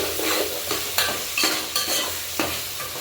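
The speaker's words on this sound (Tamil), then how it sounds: "இது நல்லா வதங்கணும்." A spatula scrapes and stirs sizzling ingredients for prawn biryani in a hot pan, with several distinct stirring strokes over a continuous frying hiss, close and fairly quiet, with no talking.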